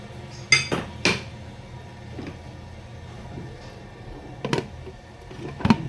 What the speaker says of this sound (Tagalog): Tapos, takpan po natin ulit.